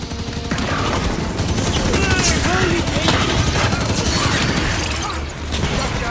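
Sustained heavy gunfire rattles through a Halo 5 campaign firefight, dense overlapping bursts and shots without pause, loud and close throughout, with voices speaking faintly in the mix.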